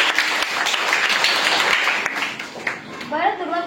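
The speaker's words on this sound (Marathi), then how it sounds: "दुर्वासाठी सगळ्यांनी टाळ्या वाजवायच्या." Schoolchildren at a village primary school quiz clap together for a classmate, a lively burst of many small hands that tapers off as an adult voice resumes talking.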